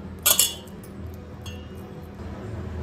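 A metal lid set onto a cooking pot that steams taro-leaf rolls in an oiled sieve over water gives one sharp, near clink with a quick ringing tail, then a quiet kitchen hum.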